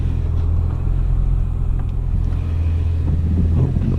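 A 2003-2018 Toyota 4Runner is on a test drive after a front brake pad replacement, heard from inside the cabin as a loud, steady low engine and road rumble with little variation.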